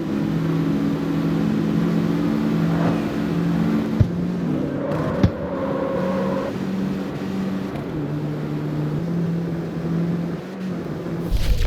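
Honda Civic engine in a racing video game, revving loudly and steadily with sustained harmonic drone, shifting pitch partway through as the engine note changes, continuous throughout.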